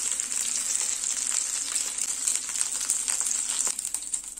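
Chicken fillet cutlets frying in oil in a pan give a steady, close bright sizzle with crackles throughout, and no voice is heard.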